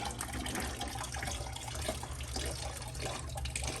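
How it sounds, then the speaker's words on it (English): Coolant pours steadily from a drain plug on a Porsche 911 Turbo 997.2 engine during a thermostat replacement, a continuous close splashing and trickling without pause. "Right now the coolant's draining."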